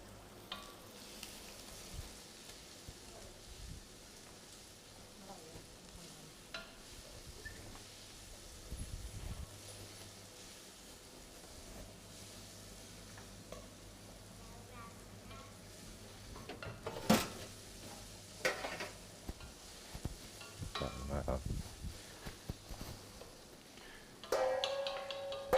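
Garlic frying in a pan and being stirred, a soft continuous sizzle under occasional scrapes and clinks of a utensil against the pan, with a louder knock near the end.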